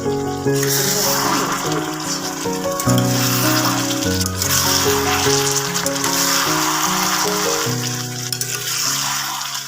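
Chicken pieces sizzle in an oiled pan while being stirred, making a continuous hiss under steady background music.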